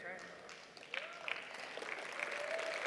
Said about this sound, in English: I get the scattered claps